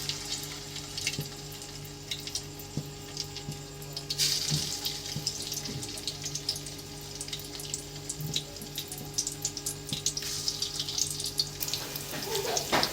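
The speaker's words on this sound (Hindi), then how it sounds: "पकोड़े ऐड कर दूँगी घी में।" Gourd pakoras fry in hot ghee with a steady, fairly faint hiss and sizzle that continues throughout, with occasional small clicks and bumps nearby and no speech.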